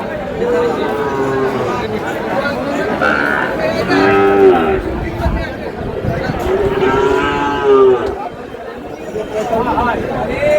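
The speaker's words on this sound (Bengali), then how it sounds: "শাহিওয়ালের বাচ্চা" Several Sahiwal calves and cattle moo loudly and repeatedly close by, with people chattering in the background of a busy livestock market.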